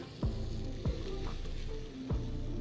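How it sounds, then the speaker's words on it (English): Curry paste frying with onions in a pan makes a soft, steady sizzle, with a few quick scraping strokes at regular intervals. "I add straight in to my onions. And you're gonna start to let that curry just cook off nicely"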